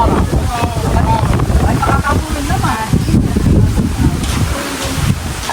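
Steady wind buffets the microphone outdoors at a backyard meal, a constant rushing roar with people talking underneath throughout.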